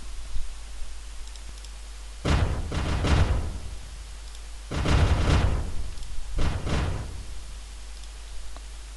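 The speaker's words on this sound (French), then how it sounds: "on crée à ce moment-là un son d'explosion" Three booming video game explosion effects from a cannon shooting game, each a loud broadband blast that fades over a second, set against a steady low hum.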